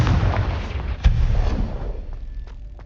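The Confringo blast spell going off in Hogwarts Legacy, a deep rumbling explosion with a sharp crack about a second in, then a rolling boom that slowly fades with faint clicks.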